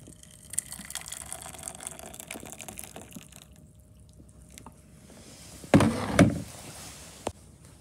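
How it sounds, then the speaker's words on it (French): Hot water is poured into a glass crystallizing dish holding a flask. A quiet room gives way to a brief, loud splashing gush near the end, followed by a single small knock. "puis nous allons y mettre de l'eau chaude"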